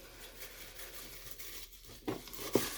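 Clumped material pulled apart and crumpled by hand, a soft continuous rustle that builds into a couple of sharper crackling tears near the end, close and fairly quiet.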